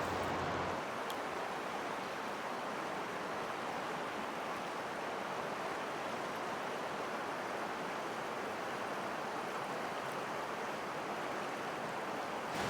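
A river flowing beside a rainforest campsite, a steady broad rush of water close by that stays even and unbroken throughout, with no voices.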